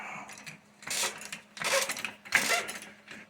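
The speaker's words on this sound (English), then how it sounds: "So I'm going to jack it back up again." A floor jack being pumped to lift a Suzuki Kingquad 750 ATV while Camso X4S tracks are fitted, giving about three short, fairly close mechanical ratcheting bursts with brief pauses between them.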